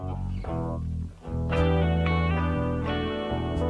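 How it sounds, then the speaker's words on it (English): Clean electric guitar drenched in reverb plays, with sustained ringing chords and long spacey tails, briefly thinning out before swelling back into full, shimmering notes. "I'm digging that reverb."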